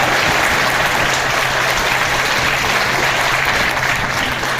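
Sustained audience applause at a university convocation ceremony, a dense, steady roar of many hands clapping throughout, loud and close with no break or speech over it.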